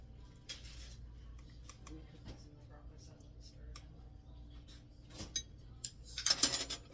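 A teaspoon scoops salt during ingredient measuring for a traditional family recipe, giving faint light clinks and ticks of metal against a container, with a quiet background and a louder scrape near the end.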